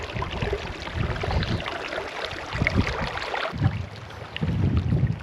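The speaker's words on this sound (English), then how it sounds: "Wind needs to stop." Gusty desert wind buffeting the microphone at a hot springs campsite in northern Nevada, with low rumbling surges that rise and fall, strongest near the end.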